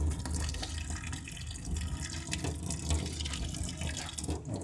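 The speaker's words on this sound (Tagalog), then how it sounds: "Tsaka babanlawan." A CD being rinsed under running tap water, a steady splashing, gurgling stream close by with no talking.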